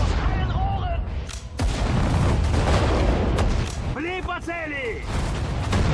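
Artillery fire in the Sudden Strike 4 video game: repeated sharp booms and blasts over a rumbling battlefield bed, with game voices and chirps in between and a person talking over it.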